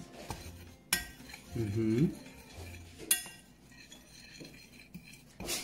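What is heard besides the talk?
stirring dry powder ingredients in a bowl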